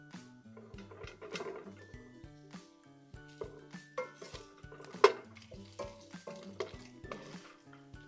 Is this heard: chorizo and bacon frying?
yes